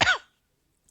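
A single short real cough, sharp and close, with nothing after it.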